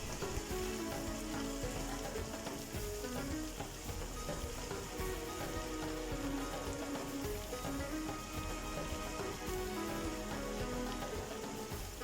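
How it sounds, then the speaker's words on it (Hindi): Chicken sizzles steadily in a karahi over a medium flame, a dense, even crackle of frying that holds for the whole stretch with no voices. "यहाँ पर चिकन को मैंने तकरीबन 10 मिनट फ्राई किया है"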